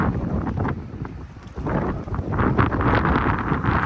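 Wind buffeting the microphone aboard the Nao Trinidad, a Spanish tall ship, heavy low rumbling gusts that swell and ease, loud and close.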